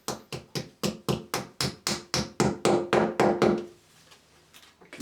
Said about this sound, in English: You can then take the plug and tap that in there